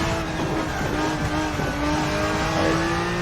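Race car engine in the RaceRoom video game on the Nürburgring, a loud continuous engine note with shifting pitch and faint tyre noise, no voices.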